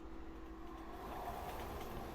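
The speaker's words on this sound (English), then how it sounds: "Here's the train again." A train rumbling past in the video game Resident Evil 6, a steady, sustained low roar with a faint metallic whine riding on top, holding fairly even throughout.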